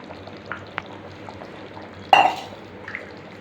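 Soft scraping and a sudden wet clatter as a spoon stirs boiled moong dal into a thick kadappa in a pot, with faint clinks around it.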